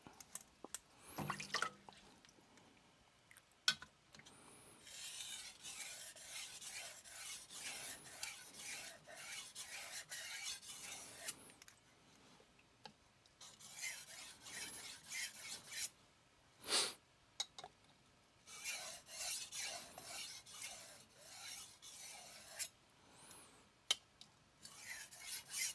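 A knife blade is drawn across a 3000 grit vitrified diamond whetstone in a series of faint, close, wet rasping strokes that come in rhythmic bursts with short pauses between.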